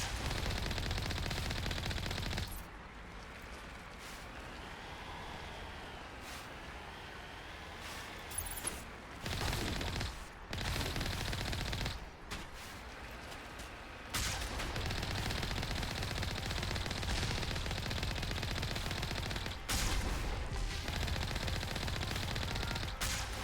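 Sustained automatic gunfire from a video game weapon fires continuously, breaking off in short bursts as the gun overheats, loud and close with brief pauses between volleys.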